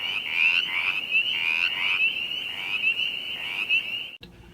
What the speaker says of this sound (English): the calls that we hear at night in ponds and ditches or streams are males calling to attract females